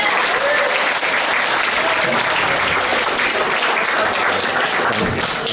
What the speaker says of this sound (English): So give the parents a big round of applause.